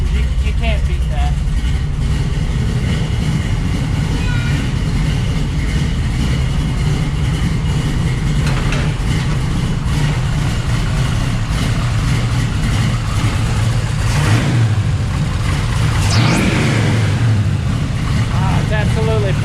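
A car fitted with a Holley Sniper EFI kit, started after sitting for months, runs with a steady low engine rumble and a few revs rising over it, with a person talking throughout.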